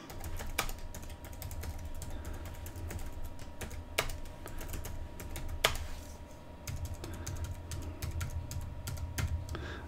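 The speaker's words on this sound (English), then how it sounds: "So now we type in one additional command." Keys clatter steadily on a computer keyboard as a command is typed into a Cisco ASA firewall configuration, a fast run of light clicks over a constant low hum, with no voices.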